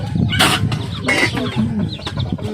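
Chickens cluck close by in a busy, overlapping flurry, with a few sharper squawks among them.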